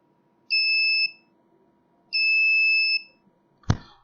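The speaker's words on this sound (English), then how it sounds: "I replace this LED and resistor completely by a buzzer." A buzzer in a proximity/obstacle detector circuit, fitted in place of an LED and resistor, sounds twice as steady, clean electronic tones, each about half a second to a second long, followed by a short knock.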